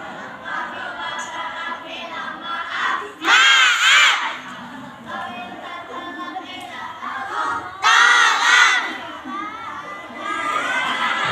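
A group of boys shouts a cheer together in two loud, ringing bursts, with a noisy mix of children's voices and crowd chatter filling the gaps between them.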